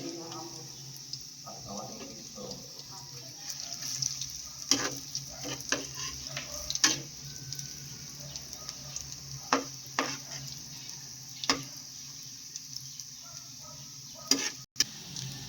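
Eggplant fries in a pan with a constant light sizzle, broken by occasional sharp clicks and scrapes of stirring. A voice talks intermittently over the cooking.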